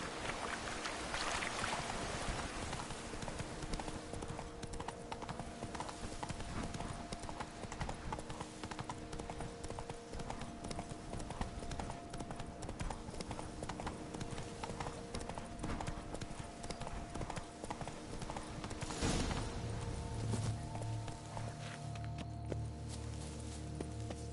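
The horse Roach gallops in The Witcher 3 video game, a fast steady rhythm of hoofbeats on ground under a wash of ambient game sound, moderately close, continuing throughout with a shift in the background near the end.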